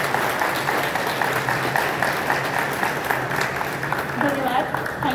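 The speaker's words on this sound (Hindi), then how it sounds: "एक बार फिर से जोरदार तालियां" An audience at a campus cleanliness initiative's inaugural session applauds with continuous, even clapping, with faint voices and some tonal sound mixed in underneath.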